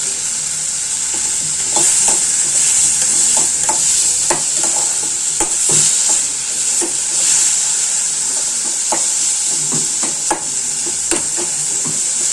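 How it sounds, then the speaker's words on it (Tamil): Tomato thokku sizzles steadily in a pan while a spoon stirs and mashes it, giving a constant close frying hiss broken by irregular scraping knocks, with no talk. "நல்லா மேஷ் ஆகட்டும், வதங்கட்டும்."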